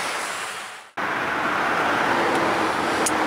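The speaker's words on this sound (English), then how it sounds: "You can hear the traffic whizzing by." Steady roar of road traffic rushing past a roadside camp spot nearby, a continuous broadband wash with a brief dip before it swells back to a constant level.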